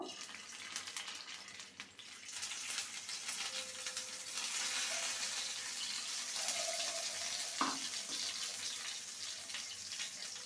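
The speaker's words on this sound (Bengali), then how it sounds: "তেলটাকে ভালো মতন গরম করে নেব এবার ডিমগুলোকে ছেড়ে দেব" Eggs frying in about a tablespoon of hot mustard oil, a steady broadband sizzle that holds throughout, with a brief clatter near the end and no talking.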